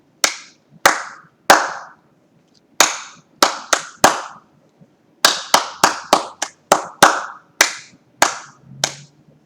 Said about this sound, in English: track the beats with your eyes as we clap and think the words